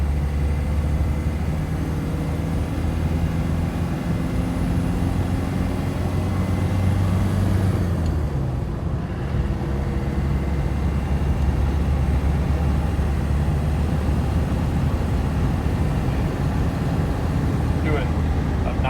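A 1995 Land Rover Defender 130 cruises at about 90 km/h on a county road, its engine and tyres making a loud, steady drone from inside the cabin for the whole stretch, while someone talks over it.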